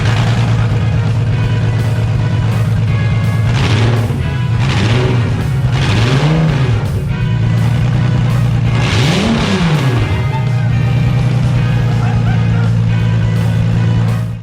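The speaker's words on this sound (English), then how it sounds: "After the engine finally started" A BMW M54B30 inline-six swapped into an E36 runs loud and close, its steady idle drone broken by several rising-and-falling revs in a rough rhythm, with occasional faint voices underneath.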